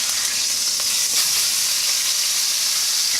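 Ribeye steak sizzling in a cast iron skillet just after being flipped, a loud, steady, close frying hiss that holds without a break and has no talk over it.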